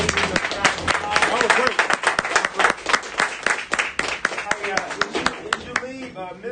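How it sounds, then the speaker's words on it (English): A crowd applauds with dense, steady clapping and some cheering voices, loud and sustained before gradually thinning out. "a round of applause"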